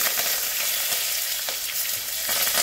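Cumin, urad dal and fenugreek seeds sizzle steadily in hot oil, a close, continuous crackling fry with soft bursts of stirring and no voices.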